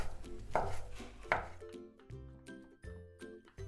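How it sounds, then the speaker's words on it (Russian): A kitchen knife chops ham or sausage finely on a cutting board, a series of close, crisp knocks in an uneven rhythm, about eight strikes with no voice over them. "Также немного порежем колбасы или ветчины. При этом лучше порезать ее мелко."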